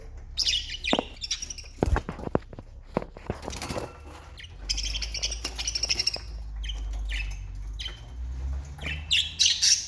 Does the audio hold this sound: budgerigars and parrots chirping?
yes